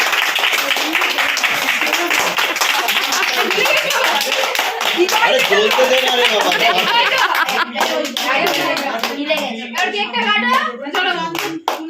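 Hands clapping in a loud, steady patter at a birthday cake-cutting gathering, mixed with children's and adults' chatter; a person talks over the clapping throughout.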